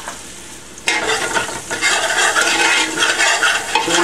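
Coriander, cumin and garam masala hit hot oil in a pan and burst into a loud sizzle after a short quiet start, with stirring scrapes under the steady frying hiss.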